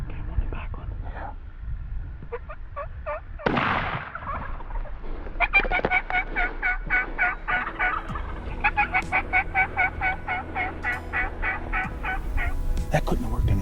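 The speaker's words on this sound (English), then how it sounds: "Rick, make him gobble." A wild turkey gobbles repeatedly in rapid rattling bursts, fairly close, mixed with other calling sounds and a brief rustle.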